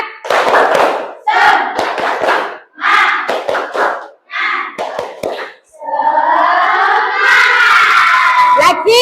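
Schoolchildren in a classroom doing a patterned 'tepuk semangat' spirit clap twice, loud bursts of group claps in set rhythms broken by short pauses, then the class chants and shouts together.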